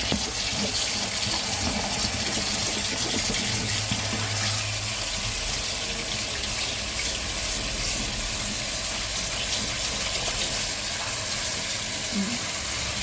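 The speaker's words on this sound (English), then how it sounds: "we're gonna pour cold water, and we're gonna put that to soak" Cold water gushes steadily from a tap to soak the ingredients of a DIY bubble tea kit, a loud, continuous rushing pour that runs unbroken for about thirteen seconds.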